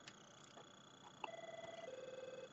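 A nearby telephone rings on a desk phone system, a soft repeating electronic trill that pulses steadily after a brief tone, faint and alone in a quiet room.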